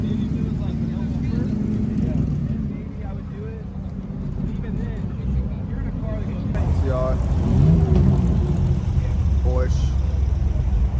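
At a Cars and Coffee meet in Dallas, Texas, a Porsche rolls by with a low engine rumble that swells as it nears, under chatter and crowd noise.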